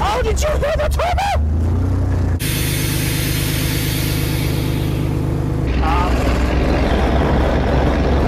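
A turbocharged hot rod engine builds boost, its steady drone climbing into a rising whine and fluttering whoosh, loud and close as people talk over it.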